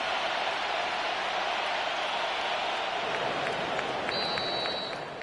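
Home crowd in a Madden NFL video game, a dense, steady wash of stadium noise from many voices, loud and sustained, with faint whistles or squeaks near the end and no clear talk.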